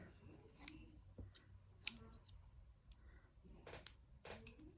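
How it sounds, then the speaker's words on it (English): Quiet, close snips of scissors, a few separate crisp cuts spaced irregularly against a near-silent background. "Cut you with my scissors."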